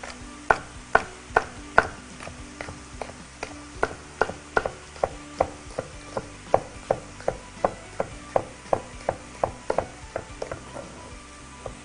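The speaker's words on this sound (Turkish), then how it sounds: "Böyle yan yatırıp onları da uzunlamasına kesiyorum" Knife chopping on a cutting board while vegetables are sliced lengthwise for a Ramadan dish: a steady series of sharp, close taps, about two per second, running for the whole stretch with a faint kitchen hum behind.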